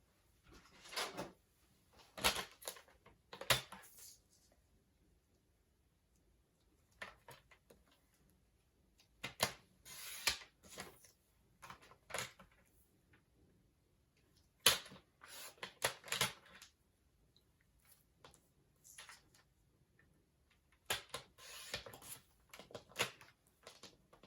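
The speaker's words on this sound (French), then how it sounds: "je la coupe au massicot" A paper trimmer cuts a photo for a woodland-themed scrapbook album, heard as several separate soft clacks and sliding strokes spread across a quiet stretch.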